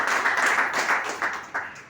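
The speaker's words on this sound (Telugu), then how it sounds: "ఈ బయోడేరియంకి ఒకసారి బిగ్ క్లాప్స్." An audience at an agriculture class gives a round of applause, brisk steady clapping from a small group, close and moderately loud, tapering off over a couple of seconds.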